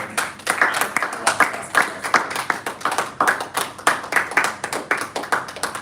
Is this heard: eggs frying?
no